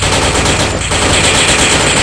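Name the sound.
gunfire in a video game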